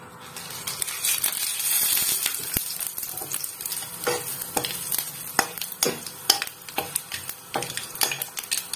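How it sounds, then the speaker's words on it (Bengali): Steady crackling sizzle of whole spices frying in hot white cooking oil in a kadai, with frequent sharp pops and spatters throughout, close and fairly loud. "আমি কড়াইয়ে সাদা তেল গরম করতে দিয়েছি। এবার আমি ফোড়নটা দিয়ে দেবো।"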